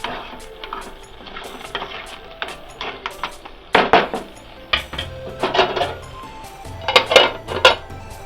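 A metal pot lid clanks and rattles shut over a pan of crab sukka cooking in an Udupi-style kitchen, with several sharp, close clatters of cookware.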